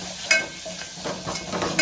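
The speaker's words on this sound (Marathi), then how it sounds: "त्यात थोडीशी कस्तुरी मेथी, थोडीशी कोथिंबीर, हे भाजून घ्यायची" Mutton masala with kasuri methi and coriander sizzles softly in a pan while being stirred, with light hiss and a few scraping spoon strokes.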